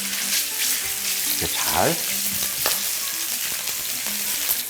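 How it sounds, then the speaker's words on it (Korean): Meat fries in hot oil for meat fried rice, a loud steady sizzle with occasional scraping and stirring clatter from the pan, close and continuous. "그러니까 이렇게 해서 고기를 먼저 익혀주세요."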